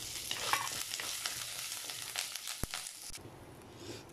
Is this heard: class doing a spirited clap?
no